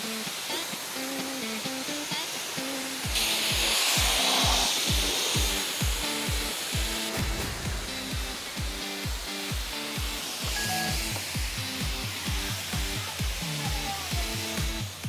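A coin-operated self-service car wash wand sprays water in a steady broadband hiss, with a loud mechanical thumping rhythm running throughout and brief surges in the spray.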